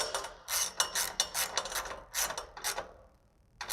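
Ratcheting socket wrench tightening new nuts on an Aston Martin DB9 exhaust during a secondary catalytic converter delete, close-up bursts of quick metallic clicks in short runs with brief pauses, no talking.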